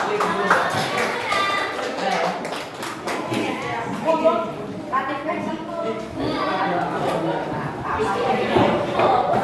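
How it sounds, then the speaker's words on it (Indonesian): Junior high school students in a classroom clapping for classmates after a roleplay reading, quick rhythmic claps mixed with children's voices and chatter that dominate throughout. "Beri tepuk tangan buat Muna dan kawan-kawan."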